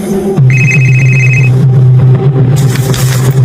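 A phone rings loudly and close, a sustained electronic tone that stops partway through, leaving some rustling noise.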